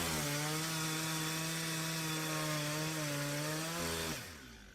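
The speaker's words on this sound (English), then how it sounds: "The sound of a chainsaw." A loud chainsaw whirs at a steady high pitch for about four seconds, then cuts out and winds down.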